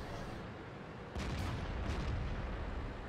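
A heavy cannon blast from a tank in World of Tanks, sudden and booming, a shot from a Jagdtiger, followed by a second rumbling shot, over faint background noise.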